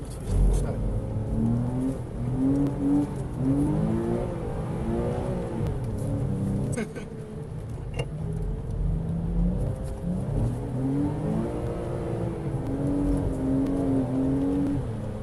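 A Porsche 987.2 Cayman S drifts on gravel. The engine rises and falls in revving, whining sweeps and sits close and loud over a steady rumble, with a brief dip midway.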